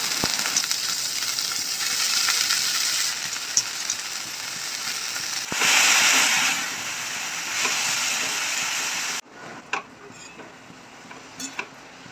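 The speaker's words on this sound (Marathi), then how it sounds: "कांदा आपला छान फ्राय झालेला आहे, आता आपण भाजी टाकून घेऊया।" Red amaranth leaves go into a pan of fried onions with green chillies and salt, giving a loud, steady hissing sizzle. After about nine seconds it drops abruptly to a quieter simmer with faint clicks.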